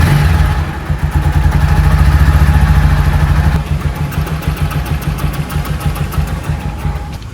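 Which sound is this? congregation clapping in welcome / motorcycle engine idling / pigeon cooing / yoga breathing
motorcycle engine idling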